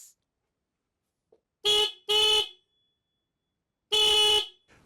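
A Yamaha XJ6 motorcycle horn blares loudly and close up in three blasts: two short honks in quick succession, a pause, then a third longer honk, with no talking.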